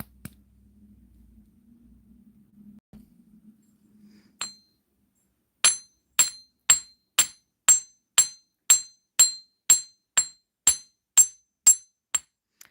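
A quiet hum and a single tap, then a steady series of about fourteen sharp metallic hammer strikes, evenly spaced, ringing and close.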